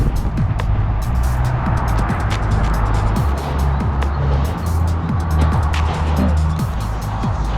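A car drives by on a small town street, heard from a moving ride as a close, loud rumble over constant wind and road noise.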